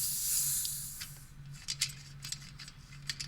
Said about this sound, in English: open the fuel cap to relieve any pressure that's already built up in there